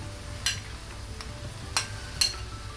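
Curd being stirred into pineapple pachadi in a pan: a faint, quiet background with three short scraping knocks of a spoon against the pan, spaced unevenly.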